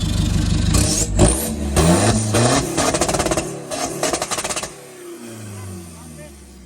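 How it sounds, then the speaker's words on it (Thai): A car engine with a two-mode exhaust and remap tune revs hard several times in quick throttle blips, a rapid rattling burst, then drops back to a low idle hum nearby. "มาฟัง สเต็ปท่อก่อนนะครับ แล้วก็สเต็ปการจูนด้วยนะครับ มาฟังเสียงกันนะครับ"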